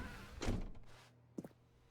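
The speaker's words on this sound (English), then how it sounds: "When Stanley came to a set of 2 open doors, he entered the door on his left." A door in The Stanley Parable video game gives a dull wooden thunk, then after a pause a second, sharper knock, both close with a quiet room between.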